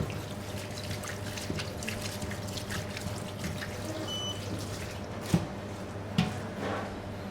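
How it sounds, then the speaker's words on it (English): Celery is washed by hand under running water, a steady splashing trickle from a kitchen tap with a couple of sharp knocks near the end and no speech. "It's very important to wash the celery very well because it's very dirty underneath."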